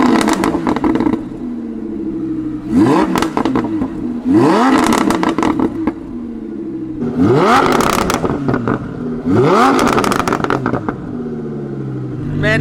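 An Audi R8 fitted with an FI exhaust and a VF Engineering tune revs hard in four loud bursts, each rising pull ending in a rapid crackling, popping overrun, with brief quieter idle gaps between them.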